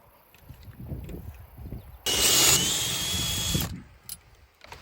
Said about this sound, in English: drill through the second one here